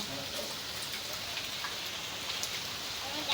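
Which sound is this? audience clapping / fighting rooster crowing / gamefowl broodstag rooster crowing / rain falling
rain falling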